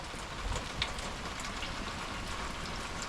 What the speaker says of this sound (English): nasty and rainy out here